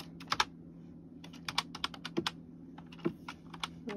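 Computer keyboard typing while playing Gorilla Tag with keyboard and mouse: irregular bursts of close, clicky keystrokes with short pauses, over a steady low hum.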